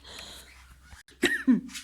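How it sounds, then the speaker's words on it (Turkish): A child's couple of close, sharp coughs near the end, following a quiet stretch of breathy sound. "Dur anneciğim öksürük tuttu."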